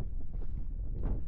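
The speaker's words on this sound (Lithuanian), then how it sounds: "vėjas tik pučia" Wind sweeping across an open mountain summit, a steady low rumbling roar buffeting the microphone throughout, with no voices.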